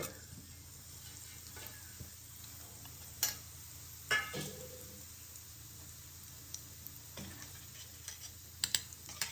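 Half a spoon each of cumin and fennel seeds spluttering in a spoonful of hot oil: a faint, steady sizzle broken by scattered small pops and a few louder crackles.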